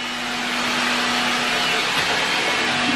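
A vacuum cleaner runs steadily at home, a close, loud, even drone with a constant whine, and no voices over it.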